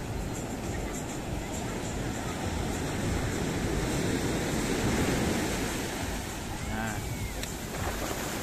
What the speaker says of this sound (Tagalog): Lakas pa rin ang alon, no?